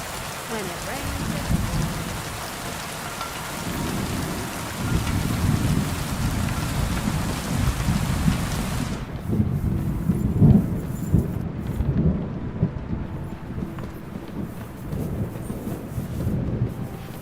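Steady rain hisses and patters in a Kingdom Come Deliverance 2 game world while low thunder rumbles underneath, the rain loud at first and then thinning to a softer wash.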